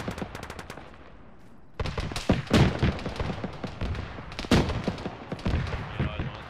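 Heavy automatic gunfire and scattered single shots crackle across a military battlefield in the tactical shooter Arma, opening with a thin distant burst, then loud close volleys and repeated bursts with no talking.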